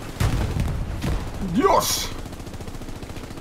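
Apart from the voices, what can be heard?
machine gun fire in video game Hell Let Loose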